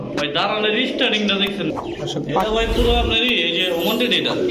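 Pakistani pigeons, including teddy birds, coo loudly and continuously nearby, and someone speaks over the cooing throughout.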